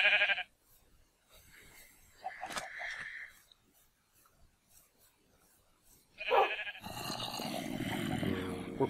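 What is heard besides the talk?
sheep bleating in a video game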